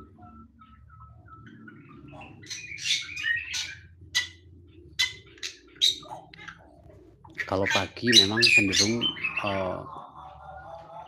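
Weaver birds chirp in an aviary, with scattered sharp tweets early on and then a busier cluster of calls, while a person talks quietly nearby.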